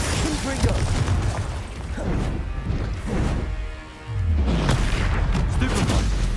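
In Hogwarts Legacy, the Confringo blasting spell hits during combat with crashing, booming explosions. Several heavy impacts arrive in quick succession against busy game sound, with a brief lull before another loud blast.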